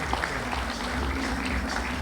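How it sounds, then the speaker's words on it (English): Brief, fairly faint burst of audience applause at a Bangalore summit held in a hotel, a steady wash of clapping with no voices over it. "A huge round of applause for them,"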